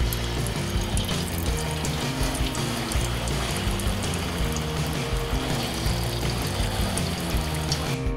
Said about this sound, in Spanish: Ahora paso a echar los bananos a freír.